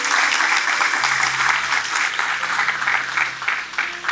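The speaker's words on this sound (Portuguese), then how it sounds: "Vamos aplaudir a Jesus então." A church congregation applauds during a Sunday evening service, steady loud clapping from many hands with a faint low hum beneath, continuing without pause.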